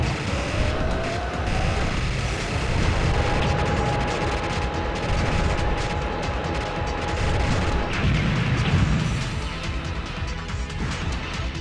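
Shots and explosions from the arcade shooter Raiden III: dense bursts of gunfire and crashing blasts layered over sustained electronic tones, loud and continuous without a break.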